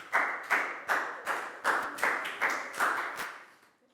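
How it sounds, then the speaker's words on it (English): Pupils in a Year 4 science class clap for a classmate, a loose, rhythmic burst of about nine evenly spaced claps close by, with no talk over it. "a big round of applause for Prel"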